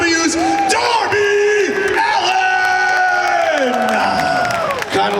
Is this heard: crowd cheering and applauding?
yes